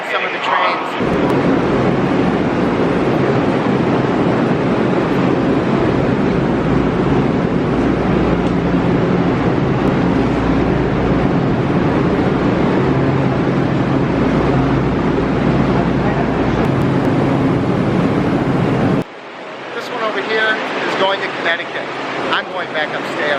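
A loud, constant low rumble and roar of trains in a busy underground Manhattan station fills the space, then drops abruptly to quieter ambient noise.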